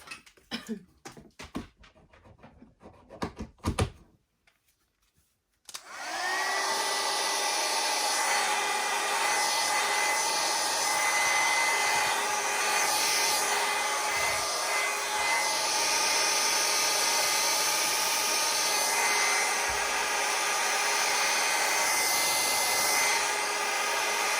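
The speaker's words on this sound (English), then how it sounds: "I'm going to get my dryer and I'm going to give that a quick burst" A hair dryer blows steadily and loudly on wet watercolour paint on paper, switching on after a few seconds of small handling noises and then running continuously at close range.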